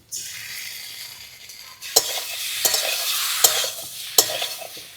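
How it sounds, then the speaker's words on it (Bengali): Boiled taro and potato fried with spices in a wok, a soft continuous sizzle punctuated by four sharp scrapes and clinks of a spatula stirring against the metal. "মশলার সাথে আলুটার কচুটা ভালো করে কষিয়ে নিয়েছি"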